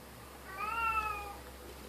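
A house cat meows once, a drawn-out, rising-and-falling plaintive call close by in a quiet room, wanting to be let outside.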